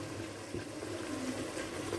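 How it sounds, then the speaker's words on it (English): Water streams steadily into a cooking pot of egusi soup, a continuous, moderately quiet pouring and splashing rush heard alone with no talk. "I want to put a little bit of water now"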